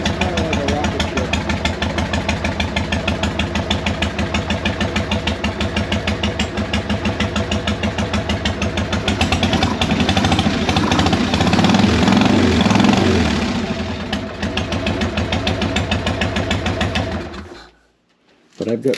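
An old motorcycle engine idles loud and close with a steady, rapid putter that swells slightly midway, then drops out sharply near the end before briefly returning.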